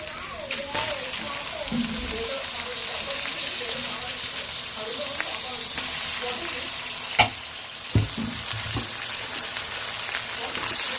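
Chicken frying in a pan with fenugreek leaves, a continuous sizzle with scraping stir strokes and a couple of sharp clanks near the end, while a voice talks over it.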